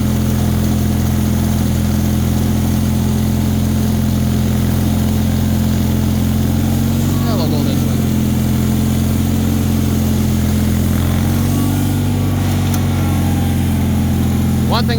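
A Bolens HT-23 lawn tractor engine idles steadily and loudly up close, its low mechanical drone holding even throughout with faint faster harmonics riding on top.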